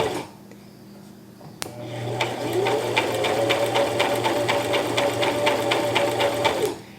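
A Brother LX3817 sewing machine runs steadily while stitching zigzag stitches over crochet thread, its fast even needle clatter and motor whir close and continuous for about five seconds after a click starts it.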